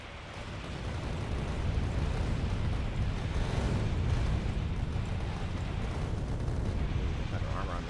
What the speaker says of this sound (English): While the missiles are firing, be sure to kite because the missile explosions will damage you if they get too close.